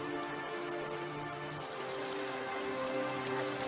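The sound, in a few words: rain shower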